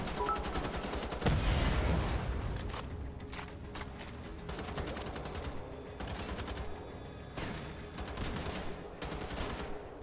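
Sustained rifle fire in a werewolf-themed shooter game, loud rapid bursts of automatic shots in a near-continuous stream, with no talking.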